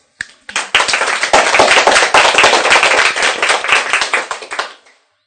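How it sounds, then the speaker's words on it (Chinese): A classroom audience applauds after a lecture on Chinese characters, a dense burst of many hands clapping that starts abruptly, holds steady for about four seconds and then fades out. "大家鼓掌。"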